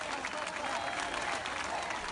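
A crowd applauds firefighters outside a polling station during the Catalan referendum, with dense, continuous clapping that fills the scene at a steady level throughout.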